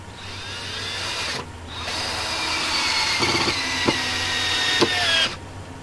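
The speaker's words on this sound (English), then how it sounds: "I'm gonna do the same on this side and drill some holes" A power drill bores holes into the wood frame of a cheap homemade greenhouse, a steady high whine with a brief pause early on, then cutting off near the end.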